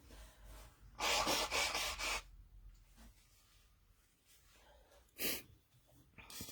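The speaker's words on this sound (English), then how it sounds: "I need to blow my nose." A loud, rough nasal blowing burst lasting about a second, followed after a pause by a shorter, sharper blow and some faint rustling.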